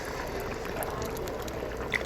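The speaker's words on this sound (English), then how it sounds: "left it to continue boiling, and we were boiling to reduce the liquid" Ukwa breadfruit porridge with palm oil, crayfish and stock boils in a pot, a soft continuous bubbling and simmering with faint pops.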